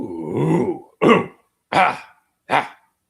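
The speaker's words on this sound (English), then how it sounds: "Let me clear my throat." A man clears his throat in a run of four separate efforts, one long rumbling rasp followed by three short, sharp bursts with brief pauses between them, close and fairly loud.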